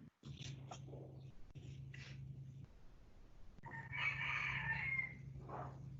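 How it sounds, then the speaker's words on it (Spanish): A rooster crows in the middle distance, a drawn-out call rising over a steady low hum, followed by a shorter second call. "¿Es tu gallo?"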